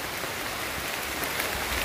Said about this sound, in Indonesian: Ini hujan cukup deras nih dan ada petirnya.